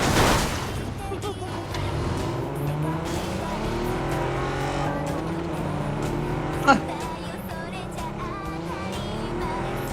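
Video game car driving with a steady engine roar, rising and falling revs and tire squeal, plus one brief impact, while players talk over it throughout.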